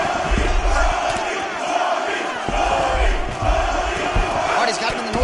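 A live crowd at a UFC 6 mixed martial arts event reacts to a fighter taking the north-south ground position, with a sustained loud roar and scattered shouts mixed with nearby commentary.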